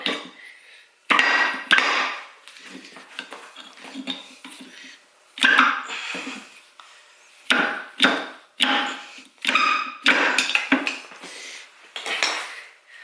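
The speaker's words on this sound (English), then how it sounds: "So you gotta pull this oil sealer. So you wanna put pressure and you wanna pop it." Metal tool work on a Toyota Land Cruiser 80 Series rear axle as an oil seal puller pries out the oil seal, heard as close, loud scraping and clanking bursts separated by brief pauses.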